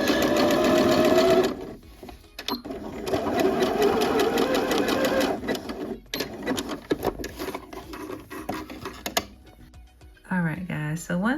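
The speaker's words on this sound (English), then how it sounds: "once we have the first pass of stitches done, we're gonna go back in 1/4 of an inch from that first set of stitches" Sewing machine stitching fall joggers: steady rapid mechanical whirring runs in several bursts with brief pauses between them, fairly close and loud, and a voice is briefly heard near the end.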